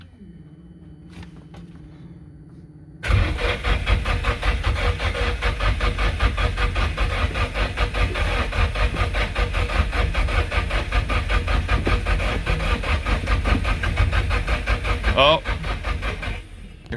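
A rebuilt Nissan SR20DET turbo engine in an S14 240SX drift car cranks and fires: quiet at first, then a loud, steady, rattly running roar takes over and holds close up, with brief talk near the start.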